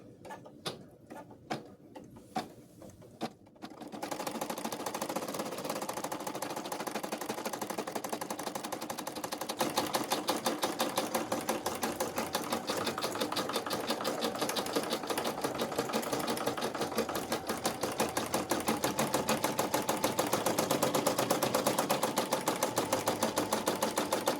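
An embroidery machine stitches out the head of a cloth doll, a dense, steady, rapid mechanical chatter of needle strokes running continuously at an even, fairly loud level after a few seconds of sparse clicks.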